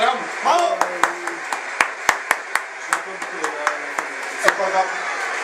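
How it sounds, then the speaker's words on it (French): Crowd at a mock César awards ceremony claps in scattered, uneven bursts, single sharp hand claps spaced irregularly, while people talk underneath. "Un petit mot pour cette foule qui vous acclame."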